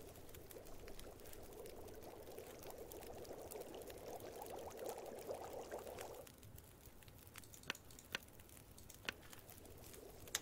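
Water pours to be boiled in the survival video game The Long Dark, a soft steady splashing stream that stops about two thirds through, leaving quiet ambience and a few faint clicks.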